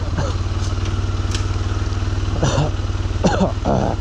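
A motorcycle engine thrums steadily as the bike rides along a road in Nuwakot, Nepal, with rhythmic low pulsing throughout and a voice talking over it in short bursts.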